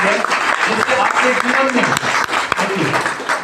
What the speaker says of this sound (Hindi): मैं चाहता हूं दोनों सर के लिए एक जोरदार ताली हो जाए